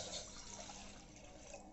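About two cups of water poured into a cooking pot on the stove for sago payasam: a soft, steady rushing splash lasting under two seconds, fairly quiet, with no talking.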